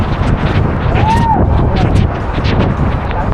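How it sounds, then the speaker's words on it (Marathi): Steady rushing wind near Kataldhar waterfall in Lonavala roars across the microphone with constant broadband noise, a faint whistle rising and falling briefly in the middle. "असला वारा मारतोय भाई खतरनाक"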